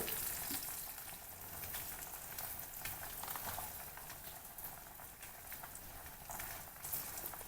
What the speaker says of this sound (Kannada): ಚೆನ್ನಾಗಿ ಹುರ್ಕೊಳ್ಳೋಣ ಕಡಲೆಬೇಳೆ ಎಲ್ಲ ಕಲರ್ ಚೇಂಜ್ ಆಗಲಿ